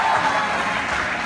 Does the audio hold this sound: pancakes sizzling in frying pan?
no